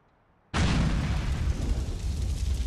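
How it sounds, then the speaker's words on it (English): A grenade thrown through a window explodes in Grand Theft Auto IV: The Lost and Damned, a sudden loud boom that cuts in after near silence and rolls on as a dense, rumbling roar to the end. "take one of these grenades and put it through their window"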